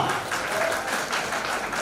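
An audience at an organisation's event in Mumbai breaks into steady applause, a dense continuous patter of many hands at moderate loudness.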